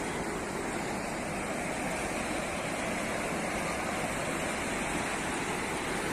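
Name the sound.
sea waves hitting the shore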